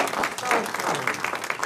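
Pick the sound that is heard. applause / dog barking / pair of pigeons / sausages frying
applause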